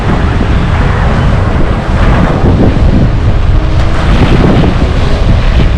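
Strong wind blows at a Wellington, New Zealand beach on a sunny day, loud continuous buffeting and rumbling across the microphone with no letup.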